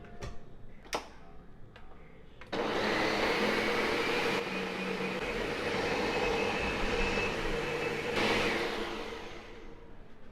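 A blender whirs loudly after a few clicks and taps, running steadily for several seconds as it purées homemade celery seasoning with leafy greens, then begins to wind down.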